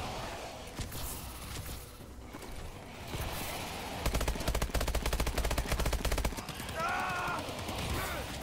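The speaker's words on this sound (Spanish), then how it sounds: "ha llegado el momento de utilizar la torreta" Automated turret firing in a Call of Duty: Advanced Warfare Exo Zombies round, a rapid sustained burst of machine-gun fire amid other game noise, with a voice talking over it.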